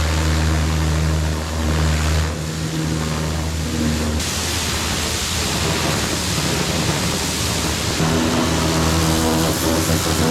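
A small Ryobi pressure washer engine runs loud and steady for the whole stretch, its droning hum shifting pitch slightly around two and four seconds, with no talking.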